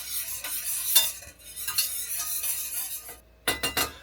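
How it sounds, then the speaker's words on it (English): An egg whisked with a fork in a small camp pan outdoors in cold weather, quick metallic scraping strokes in bursts with short pauses, close and fairly loud, no talking. "I'll break the egg yolk and just whip that up together"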